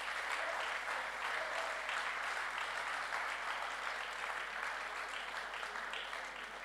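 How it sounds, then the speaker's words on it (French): A dense, steady round of audience applause at a French regional innovation label award ceremony, loud and sustained throughout without a break. "un applaudissement pour Anne-Claire"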